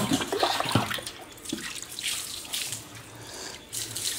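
Water splashes and pours from a tap while a puppy is bathed, a loud, uneven gushing stream close by.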